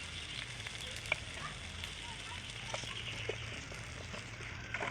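Okra fries in a pan with a steady low sizzle and crackle, occasional small pops and clinks from stirring, moderately close with no clear talking.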